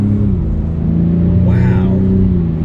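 A 2021 Acura TLX engine revs up under acceleration, rising for a moment over steady cabin and road rumble, heard from inside the car.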